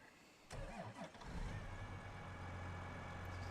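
A tractor engine cranks and starts in Farming Simulator 25, a sharp click and brief starter whir followed by the engine catching and settling into a steady, loud low idle.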